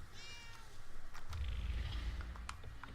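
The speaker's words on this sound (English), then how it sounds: "And there's a cat." A cat in the video game Murdered: Soul Suspect gives a short, faint meow in a quiet alley setting.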